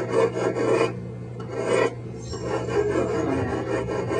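A file sharpens the teeth of a checkering tool, giving a steady, close rasp in repeated strokes separated by short pauses.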